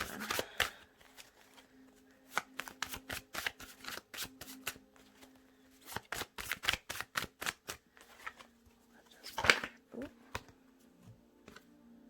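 Tarot cards are shuffled in quick crisp bursts of riffling clicks, several rounds separated by short pauses, close up with a voice speaking briefly between them.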